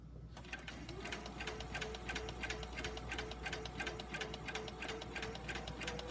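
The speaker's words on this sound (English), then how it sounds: "let's just lower our presser foot, and as I stitch" Sewing machine stitching a quilt block with the presser foot lowered, a fast, even mechanical chatter running steadily and close, fairly quiet, with no talking.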